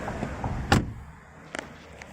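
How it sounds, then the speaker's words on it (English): Door and locking sounds on a Porsche Cayenne V6: one sharp clunk, then a quick double click of the locks a moment later, close against a quiet background. "So I'm going to lock the door and then lock the car."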